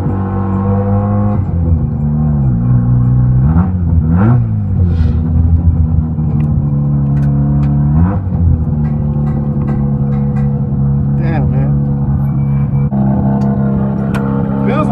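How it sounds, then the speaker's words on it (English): A drifting car with a loose, dangling exhaust: a loud, steady engine drone that swells and dips with revs, with faint rattles and taps over it and talk in the cabin. "It feels like the exhaust dangles around a lot."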